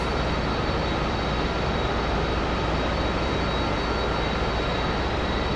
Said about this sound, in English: we're okay now to start our engine